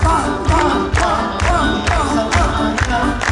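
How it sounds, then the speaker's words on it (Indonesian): A church congregation at a revival service in a sports hall claps in a steady rhythm, about two claps a second, over loud singing and music. "Ya, tepuk tangan."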